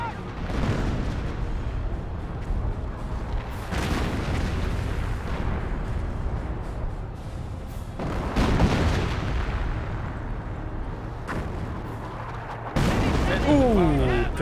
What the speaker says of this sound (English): Ooh, directed there, drops the mortar, I think.